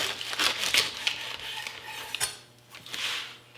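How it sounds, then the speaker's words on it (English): A knife trims the dry ends off green onions in a sushi chef's kitchen, giving a run of crisp, close chopping clicks against the board with no talking. "Now sometimes the ends of these green onions are going to get a little dry, so I like to cut them off."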